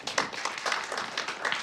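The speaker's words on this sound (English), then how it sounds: "Please give them a round of applause." Audience applause at an apprenticeship graduation and launch ceremony, a steady patter of many hands clapping at moderate distance with no talk over it.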